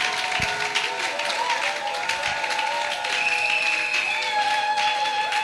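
Church congregation at a Sunday service applauding to acclaim Jesus, loud sustained clapping and cheering filling the room, with shouting voices over the continuous applause.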